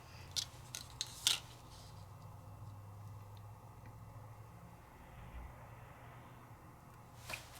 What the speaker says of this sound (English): I almost hate cutting into this paper because it looks so beautiful